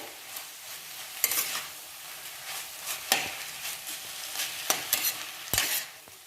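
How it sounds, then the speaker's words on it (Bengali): Bathua greens fry in a pan, a soft continuous sizzle with the crackle of moisture cooking off, broken by several sharp scrapes and clacks of a spatula stirring through the leaves. No one speaks. "এরপরে আরও কমে যাবে ভাজতে ভাজতে শাকটা একদমই কমে যাবে"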